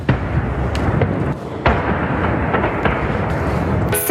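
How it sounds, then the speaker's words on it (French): Several explosions from a drone strike on the Novorossiysk port fuel depot, filmed by a witness at night: broad, loud booming bursts with a strong one near the start and another around mid-clip over constant rumbling noise. "on distingue plusieurs explosions à quelques minutes d'intervalle"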